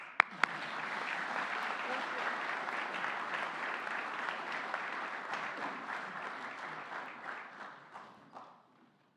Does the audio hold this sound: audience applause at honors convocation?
yes